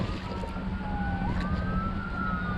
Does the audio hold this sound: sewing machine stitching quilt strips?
no